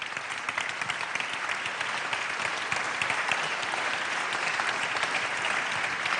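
Sustained audience applause at a French national awards ceremony as a vice-president of the Senate is introduced, a dense, steady wash of many hands clapping at even volume throughout with no voices over it.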